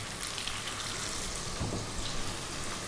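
Chopped onion sizzles steadily in hot cumin-infused oil, a continuous crackling hiss with soft popping for a prawn fried rice, close by and without talk.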